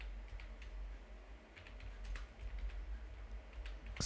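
Faint, sparse keystrokes on a computer keyboard as a narration is typed into an accounting voucher entry, scattered clicks over a low background rumble.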